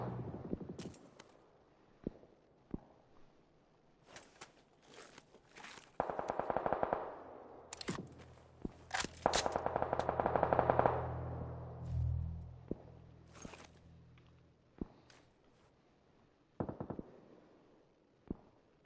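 Gunfire in PUBG rings out in bursts of automatic shots and single cracks, some loud and near, others fainter, separated by quiet gaps and a low rumbling passage.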